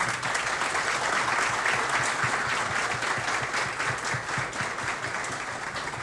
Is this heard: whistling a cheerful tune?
no